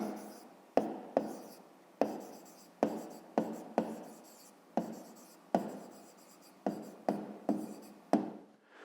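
Pen writing by hand on paper while noting the sides of a pentagon for a 5th-grade geometry exercise: a run of short scratchy strokes, each starting with a sharp tap and trailing off, close and fairly quiet, with no talking.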